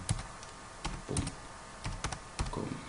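Typing an email address on a computer keyboard: a close burst of crisp key clicks in irregular clusters with short pauses between them.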